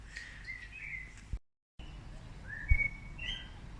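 Birds whistle and chirp in clear repeated phrases over a quiet, low background rumble, broken by a brief moment of silence.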